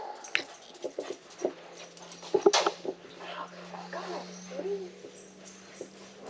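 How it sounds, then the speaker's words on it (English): A dog in the background of a home garage workshop whimpers and gives short yelps in scattered bursts, faint and distant, over a steady low hum. "I got a crazy dog in the background acting crazy."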